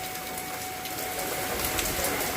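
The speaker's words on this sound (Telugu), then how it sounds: "చూడండి ఫుల్ వర్షం" Heavy rain pours down steadily, a dense, continuous patter and hiss close by with no voices.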